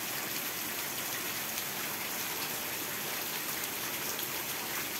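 Steady rain falls at night, an even, continuous hiss of drops on surfaces with no pauses or voices.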